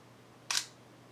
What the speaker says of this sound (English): When I hit this shutter button,